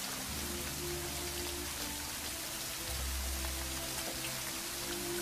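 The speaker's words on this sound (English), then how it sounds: "What, in this rain?" Steady rain falls throughout as a continuous, even hiss of drops on a surface, with a faint low rumble beneath it; no speech.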